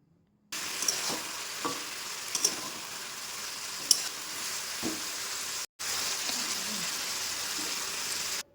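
Fried prawns being stirred into bottle gourd curry in a pan: a continuous sizzle and bubbling with intermittent spatula scrapes and knocks, close, briefly cut out near the end.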